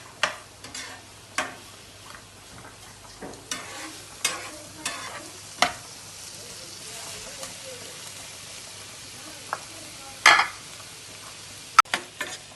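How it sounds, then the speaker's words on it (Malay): Spices and aromatics sautéing in a pan for an egg kurma, with repeated stirring scrapes and clinks over a soft, steady sizzle, close and fairly quiet. "Kita perlu tumis ni dah hilang bau"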